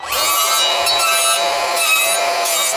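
An Evolution R185SMS-Li 18V cordless sliding mitre saw cutting a channel in wood, a loud, continuous high-pitched whine and grinding cut, close by and steady throughout with slight dips in pitch.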